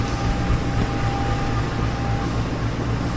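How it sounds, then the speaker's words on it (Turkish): A steady, loud rumble of an arriving train with a low mechanical drone and a faint high whine, continuous throughout with no talking. "Evet şimdi ikinci trenim de geldi."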